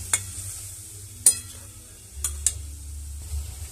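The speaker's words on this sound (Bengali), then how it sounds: "অল্প করে জল দিয়ে দিচ্ছি, দিয়ে একটু নাড়ে দেবো।" Stirring a vegetarian curry in a pan after water is added: a few sharp, separate scrapes and clinks of the utensil against the pan over a soft, low bubbling simmer.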